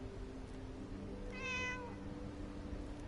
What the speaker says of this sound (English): Oh, hello, kitty cat.